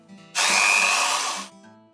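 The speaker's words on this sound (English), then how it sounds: "Then, pre-drill your hole." A power drill pre-drilling a hole for a roller blind whirs in a single loud burst of just over a second, starting abruptly and winding down, with quiet room tone around it.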